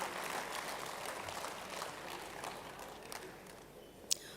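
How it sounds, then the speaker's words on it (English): Audience applause at a conference, a steady, moderately distant wash of clapping from a large hall crowd that holds even throughout, with one sharp click near the end. "Can we please have a big round of applause for Mr."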